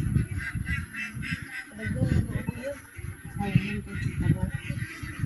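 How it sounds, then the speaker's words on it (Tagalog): A large flock of domestic ducks quacking and honking in a dense, continuous chorus at a duck farm, with people talking over the birds throughout. "napakaraming itik guys, oh"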